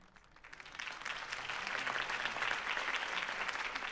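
A crowd breaks into applause after Harvey Dent's campaign speech in the Batman Telltale game, starting quietly and swelling into sustained, dense clapping that holds steady to the end.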